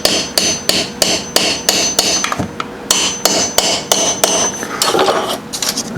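Sharp metal-on-metal hammer taps driving a 10 mm flex socket onto a fastener during valve adjustment on a 1984 Honda 500 Interceptor motorcycle, about a dozen close, loud strikes in an uneven rhythm with brief pauses.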